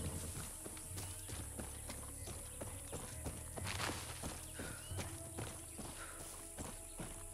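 Horse hooves clip-clop in the Far Cry 6 video game, a continuous run of quick, evenly paced steps under steady game background noise.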